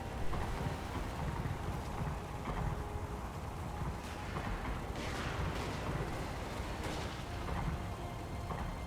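Dwarf gyrocopters bombard ground troops in Total War Warhammer, a dense, distant rumble of crackling shots and booms layered over a constant noisy battle wash.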